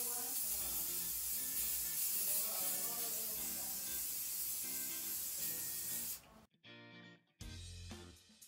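Hair spray misted onto slicked-back wet-look styled hair, a long steady hissing spray lasting several seconds, then a brief pause and a short final burst, heard close with no talk.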